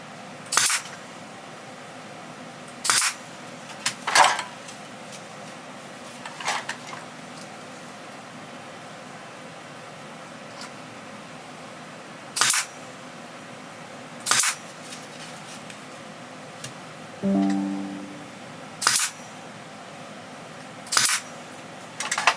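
A brad nailer drives 7/8-inch, 18-gauge brad nails into small pallet-wood coasters, giving about nine sharp, snappy bangs at irregular intervals over a quiet room background, with no talking.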